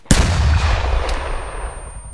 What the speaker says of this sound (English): Clear my back blast. Rocket.